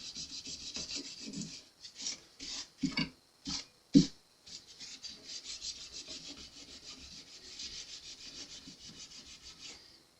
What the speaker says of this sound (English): This is just the first step to getting the fretboard cleaned again to where it's acceptable and playable.